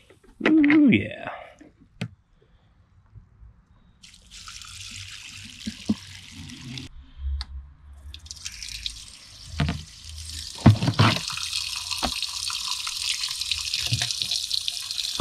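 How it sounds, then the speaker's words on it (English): Water sloshing and pouring out of a container after washing, bursts of splashing and trickling that build into a longer steady pour, with a voice speaking at the start. "Then dump the water out."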